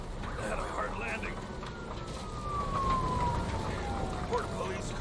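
A police car siren from a video game, sweeping down in a long wail after a crash, sounding mid-distance under game ambience and voices.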